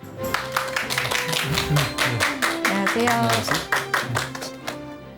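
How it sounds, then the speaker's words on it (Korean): A lecture audience applauds to welcome a professor, with sharp, dense clapping filling the whole stretch and a voice speaking briefly over it. "큰 박수 부탁드립니다"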